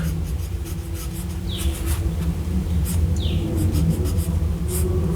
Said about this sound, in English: this pen writes exceptionally smooth, I must say